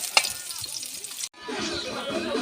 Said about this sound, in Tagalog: Gigisahin natin tapos gagataan na